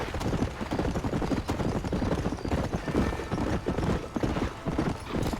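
A horse gallops in the video game Red Dead Redemption, a steady, fairly quiet run of rhythmic hoofbeats with game ambience beneath.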